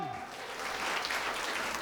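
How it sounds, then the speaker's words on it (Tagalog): A church congregation claps steadily, a dense wash of applause that holds at an even level throughout. "Malakas nga pong palakpak, Panginoon!"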